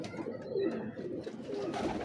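Pigeons cooing close by, French big breeder pigeons in a loft, with soft continuous throaty coos overlapping through the moment, no speech.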